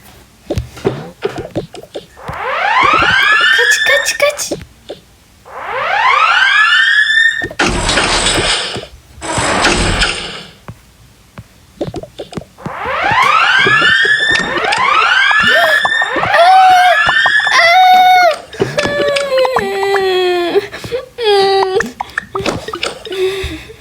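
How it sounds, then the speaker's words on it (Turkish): Fire alarm in the Toca Boca video game wails in repeated loud rising siren sweeps, some long and some in quick bursts, sounding alone and up close for most of the stretch. "Bak bu bizim yangın alarmımız. Buna basacağız ve kaçacağız tamam mı?"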